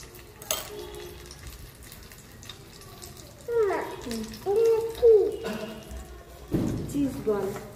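Cheese balls fry in oil over a low flame with a soft, steady bubbling, while voices talk over the cooking.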